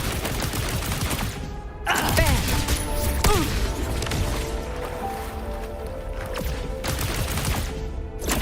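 Rapid gunfire in the video game Wuthering Waves rattles in repeated bursts, with a loud volley early on and further shots over ongoing game audio and music.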